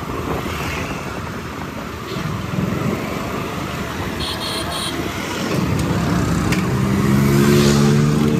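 Road noise from a vehicle coming up from behind on a street, a steady rumbling roar that swells and grows closer and louder toward the end, with faint background sounds.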